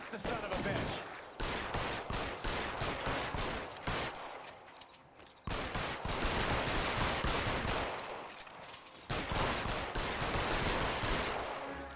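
Sustained gunfire in the LA Noire shootout at the Naked City, loud and dense bursts of shots rolling on with brief lulls, with some voices briefly under the shooting.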